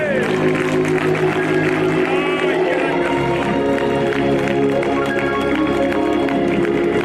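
A church congregation claps together during a Sunday morning service, broadband clapping sustained and loud throughout, mixed with crowd noise and music-like tones.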